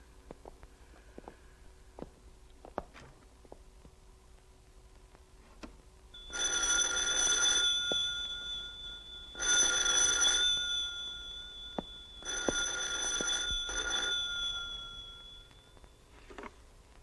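An old telephone bell rings in three separate long bursts in a quiet room, with short pauses between them and a few faint clicks before the ringing begins.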